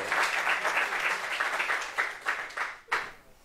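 Audience applause at a church healing testimony gathering, a dense steady wash of many hands clapping that swells and fades over a few seconds, with a couple of sharper bursts near the end.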